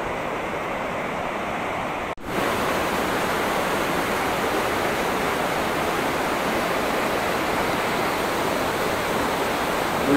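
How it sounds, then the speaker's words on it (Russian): Small Himalayan waterfall at Vishnuprayag roars with steady, loud broadband rushing water close by, continuous for the whole stretch apart from one very brief dip early on, with no voices. "Ну, здесь перекрикивать водопадик не буду."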